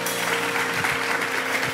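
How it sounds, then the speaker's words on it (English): Applause from a church outreach congregation welcoming a guest speaker, an even, sustained roar of many hands clapping that fills the room with no talk over it. "would you put your hands together for our brother Ron Olivier?"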